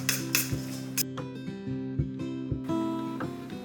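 A crab cake mixture with breadcrumbs and diced white bread cubes is stirred in a bowl, giving a steady run of sharp clinks and taps as a utensil knocks against the bowl, close and fairly loud.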